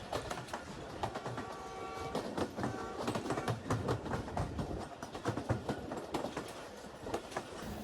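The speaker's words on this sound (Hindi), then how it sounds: "इस वक्त ट्रेन का ट्रैक साउंड और विसल बहुत मज़े का लग रहा है" Sialkot Express running along the Sialkot branch line, heard from the last coach: a steady rumble of wheels on rail with rhythmic clicks and clatter throughout, close and continuous with no talk.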